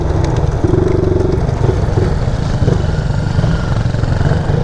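A motorcycle engine runs on an off-road ride in Mustang, Nepal, with a loud, steady, rumbling throb that stays close and constant throughout, with no talk.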